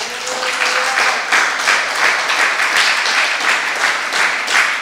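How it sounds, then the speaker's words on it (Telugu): A church audience claps loudly and steadily in unison at a Telugu sermon for young people, a dense continuous wash of applause filling the room for several seconds with no talk over it. "నమ్మితే గట్టి చప్పట్లు కొట్టు"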